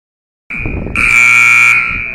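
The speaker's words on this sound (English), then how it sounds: "buzzer has sounded" At a high school football game in Ohio, a loud electronic buzzer sounds close by, starting as a steady tone and then swelling into a harsher, fuller blare that holds for about a second before cutting away.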